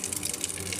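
Tap water runs steadily as a hot-water faucet is drawn, a continuous close broadband gush without pause or voices.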